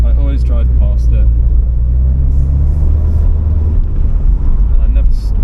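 Nissan Silvia S15 engine rumbling low and loud from inside the car as it pulls in, with a steady drone throughout and someone talking over it.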